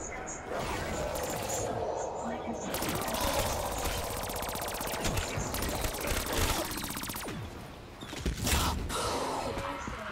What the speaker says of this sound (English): Bro, this Tommy gun is ripping them.